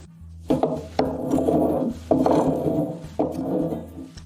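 Four rough scraping strokes of a bladed hand brush dragged across a wooden cabin beam, stripping paint, each a rasping pass of about a second, close and steady.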